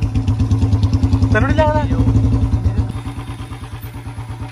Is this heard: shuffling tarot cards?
no